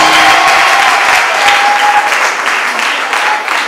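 A school hall audience in Kamina claps loudly and steadily, a dense sustained round of applause throughout with a faint tone underneath.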